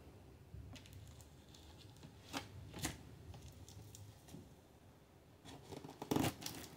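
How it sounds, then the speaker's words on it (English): A knife slices through packing tape on a mailed cardboard box, giving soft scratchy drags and a few sharp ripping bursts close by in a quiet room. "And I'm being very careful with it because I don't want to damage whatever's inside this."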